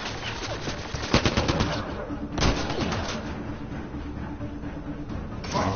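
Rapid automatic gunfire from a Carnifex-model gun in the Mass Effect Andromeda video game, with a burst of sharp shots in quick succession, a heavier blast, then scattered fire under in-game voices.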